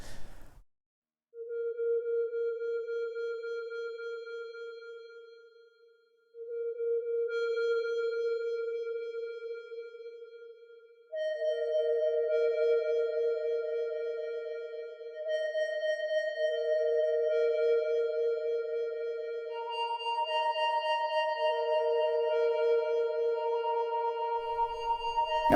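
An ambient synth loop plays in the Gauss Field Looper app on an iPad, with soft sine-like sustained tones entering one by one and layering into a slowly building, repeating chord pattern.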